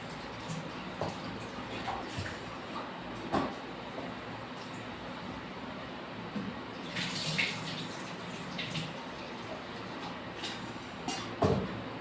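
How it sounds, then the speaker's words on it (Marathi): Water splashes and swishes steadily as rice is rinsed by hand in a kitchen, a continuous close wash with a few sharper splashes and knocks. "छान असं तांदूळ धुवून टाकूया"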